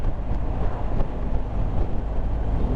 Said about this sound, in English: I can hear wind noise, but there's zero buffeting.